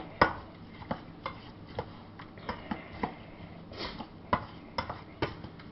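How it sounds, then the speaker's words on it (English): Apples are stirred together with margarine and lemon juice for an apple pie, giving a series of soft, wet clicks and scrapes at an irregular rhythm, close and fairly quiet. "Let's get it all mixed up here in these apples."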